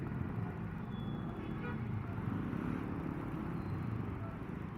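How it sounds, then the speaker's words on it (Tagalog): Heavy road traffic on EDSA in Pasay near Taft during road rehabilitation makes a steady, distant roar of vehicles, with a faint car horn toot sounding briefly in the mix. "So matindi yung traffic."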